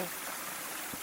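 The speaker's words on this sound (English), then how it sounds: "Here is the norm, a nice little creek heading down to the trail" A small creek flows down beside a hiking trail in early spring, giving a steady, close, broadband rush of running water with no voices.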